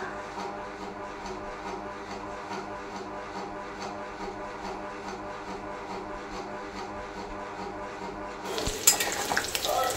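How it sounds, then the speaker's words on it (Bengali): Chicken pakora deep-fries in hot oil with a steady bubbling hiss that carries throughout. A louder clatter of utensils or pan comes near the end. "এবার চিকেন পকোড়া ভাজা হচ্ছে।"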